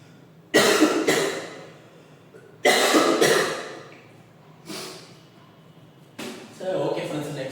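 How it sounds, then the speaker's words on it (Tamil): Several bouts of harsh, chesty coughing close up, each a cluster of rough bursts separated by pauses of quiet breathing. "அதை இருமல் வந்துட்டே இருக்கு."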